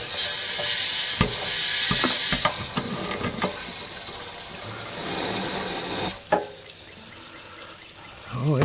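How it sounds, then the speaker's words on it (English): Water hisses and rushes steadily into a hot water tank through a flush wand, with a few sharp knocks and clunks, then quieter trickling and gurgling, and a brief burst of talk partway through. "Hear the water going in."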